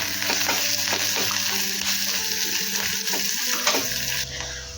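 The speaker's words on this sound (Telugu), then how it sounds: "ఇంకా ఎండుమిర్చి కరివేపాకు మీకు ఈ ఫ్లేవర్ ఇష్టం ఉంటే కొద్దిగా ఇంగు యాడ్ చేసుకోండి చాలా బాగుంటుంది ఇవన్నీ బాగా ఫ్రై చేసుకోండి" Dried red chillies, curry leaves and a pinch of asafoetida fry in hot oil as a tempering, producing a loud, continuous close-up sizzle with crackles and stirring clatters throughout.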